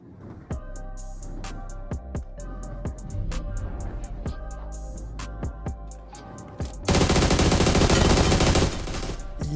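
Automatic gunfire from PUBG Mobile gameplay rattles in repeated loud bursts, ending in a dense sustained volley, over a busy game soundscape.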